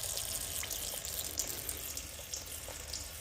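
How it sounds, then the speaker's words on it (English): Engine oil pouring from disconnected oil cooler lines on a 2012 Chevy Impala, a steady close splashing, trickling stream running continuously into a catch bucket with no talk. "You gotta realize these lines are full of oil, so they will start pouring out."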